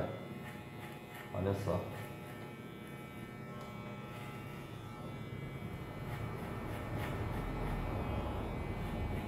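Electric hair clipper buzzing steadily while cutting an undercut, run back to front and then front to back along the head, close and continuous with a brief spoken remark over it.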